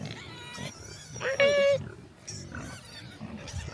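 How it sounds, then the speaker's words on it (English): Pigs and piglets at a farm on Phillip Island, Australia, grunting and squealing close by in short bursts, with people talking over them. "look at the piglets."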